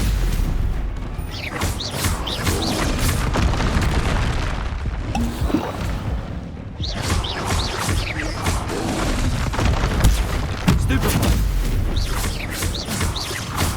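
Bombarda blasting spells fired in Hogwarts Legacy on PS5, a run of loud booming explosions and crashes packed one after another throughout, with a short lull midway before the blasts resume.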